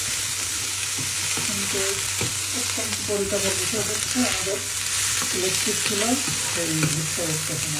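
Vegetables are stir-fried over high heat in a pan, a steady loud sizzle running throughout with a busy clatter of utensil scrapes and tosses over it.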